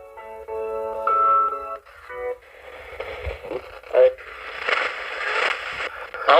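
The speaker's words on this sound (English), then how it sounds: "We do another spirit box session here." A spirit box radio sweeps rapidly through stations, choppy bursts of tones, static and fragments of voices cutting in and out in quick succession.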